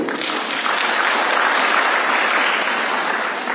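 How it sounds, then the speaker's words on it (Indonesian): An audience at a university engineering faculty alumni reunion claps steadily in a dense, even burst of applause that swells slightly and then holds. "Tepuk tangan dulu."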